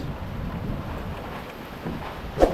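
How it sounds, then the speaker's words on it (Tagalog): Strong typhoon wind from Typhoon Tino blows outside in Mandaue City, Cebu, a steady broad rushing roar buffeting the microphone, with a sharper gust near the end. "So hangin sa labas."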